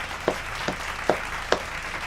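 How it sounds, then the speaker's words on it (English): Four slow, evenly spaced hand claps sound faintly and close by, each a short sharp snap with a pause between. "Clap it up."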